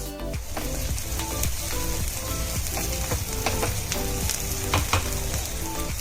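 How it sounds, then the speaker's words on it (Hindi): Chopped onions for dabeli fry in hot oil with a loud, continuous sizzle, close and dense, and occasional stirring scrapes, with no talk. "हम इन्हें पिंक होने तक भून लेंगे।"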